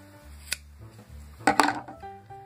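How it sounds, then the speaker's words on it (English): Scissors snip the end of embroidery string near a knot, one sharp click followed a second later by a brief cluster of snipping clacks, close and fairly loud with no talk. "let's cut the end"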